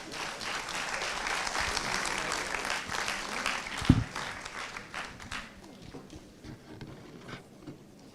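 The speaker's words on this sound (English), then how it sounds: "A big round of applause." An audience at a conference applauds to welcome the panelists, with sustained clapping that peaks near the middle with a sharp thump, then thins and fades toward the end.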